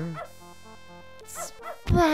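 A cartoon dog in the video game Beneath a Steel Sky gives a few short, tonal barks and yips over a soft synthetic game backdrop, ending with a louder burst.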